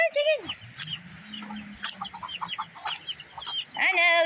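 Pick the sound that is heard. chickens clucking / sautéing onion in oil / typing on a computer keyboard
chickens clucking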